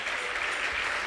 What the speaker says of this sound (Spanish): Si le vas a dar el aplauso al Señor, dáselo bien.